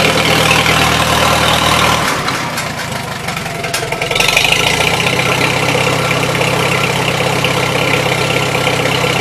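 A 1953 Farmall Super H tractor engine idles steadily with a loping, low rumble, close and continuous, dipping slightly for a couple of seconds before settling back to an even beat.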